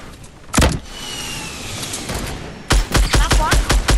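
Gunfire in a Fortnite match: one loud blast early on, then a rapid string of sharp, close shots in an irregular burst near the end, with a quieter stretch in between.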